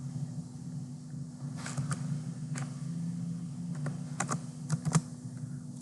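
Keys tapped on a computer keyboard while a Bash script is typed in, a few quiet clustered clicks over a steady low hum, with no talking.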